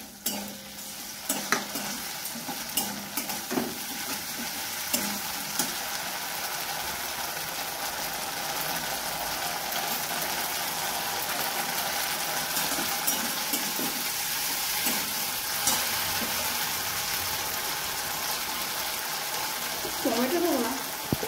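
Spices frying in a pan for a paneer curry, a continuous sizzle broken by scraping stirs and clinks of a spatula, close and fairly loud, with a voice speaking at times.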